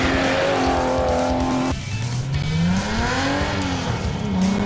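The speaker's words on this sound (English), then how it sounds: "you stick a big Nissan 6-cylinder motor in and you go racing" A Ford Bantam bakkie race truck fitted with a big Nissan 6-cylinder engine roars loudly and continuously at a race, its pitch climbing, dropping sharply at a gear change, then rising again.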